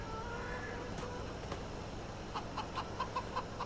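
Chickens in a chicken house in the Farming Simulator video game cluck faintly, first a few soft calls and then a quick run of clucks near the end, over a steady background hum.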